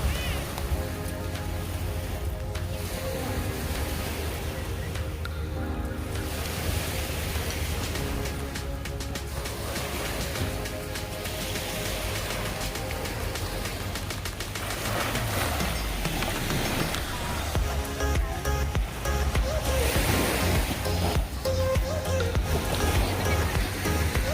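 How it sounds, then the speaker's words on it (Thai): Steady, continuous wash of surf noise at Bang Saen Beach, Thailand, rolls on without pause, fairly loud and broad, with a faint tonal hum underneath. "บรรยากาศหาดบางแสนค่ะ"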